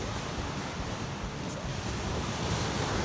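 Pacific Ocean waves wash onto Black Sand Beach with a steady, loud roar of surf, mixed with wind buffeting the microphone and no voices.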